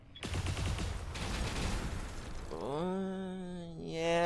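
Mech weapons fire at once in the video game BattleTech, a dense roaring volley that fades into a rising, whining mechanical tone.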